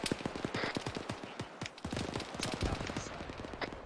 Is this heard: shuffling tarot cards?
no